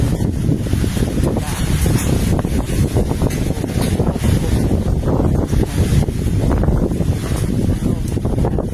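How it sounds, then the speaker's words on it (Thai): Strong wind buffeting the microphone in heavy continuous roaring gusts, loud and rough throughout with no clear voices. "ลมมาแรง ตรงนี้นะฮะ ลมมาแรง"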